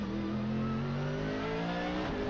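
Onboard a GT race car of Bingo Racing in qualifying at Fuji, a loud continuous engine roar with steady rising harmonic pitch as it accelerates, close and alone without talk.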